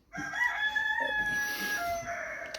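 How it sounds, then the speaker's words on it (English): A rooster crows once in a long, drawn-out call, fairly close and clear, with faint background noise and no talking. "goddamn rooster"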